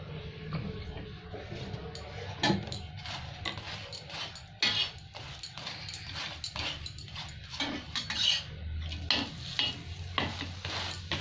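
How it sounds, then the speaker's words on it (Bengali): Aloo parathas frying in oil on a hot tawa, pressed down repeatedly: a low sizzle broken by frequent scraping and tapping of a spatula against the pan, with brief clatters and no clear speech. "এবার আমি তেল দিয়ে ভালো করে ভেজে নেবো।"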